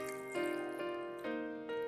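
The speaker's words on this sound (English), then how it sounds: "Pour in enough water to cover the ingredients." Water poured from a tap or jug into a bowl of dried lily flowers and shiitake mushrooms, a steady close trickle with faint bubbling that shifts in pitch as the bowl fills, no voices.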